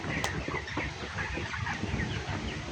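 Broiler chickens cluck steadily on a poultry farm, a dense, continuous flock chatter with overlapping calls and no talking.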